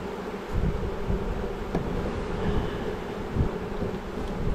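Honey bees swarming around hive comb being moved into a new box, a dense continuous buzzing hum close by, with outdoor wind noise rumbling underneath.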